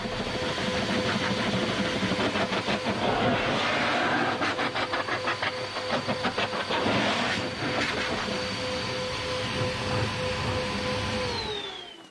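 Handheld blower drying a freshly washed Porsche GT3 RS, wheels included, in cold wintry weather: a loud, steady motor whine with airy rushing hiss that holds throughout, rising and falling slightly as it sweeps over surfaces, then winding down at the end.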